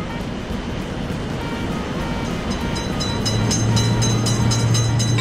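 Loud, continuous rumble of a train running past a motor-vehicle level crossing, broadband roar like rushing surf, joined by a steady low tone and brighter rhythmic clatter in the last two seconds.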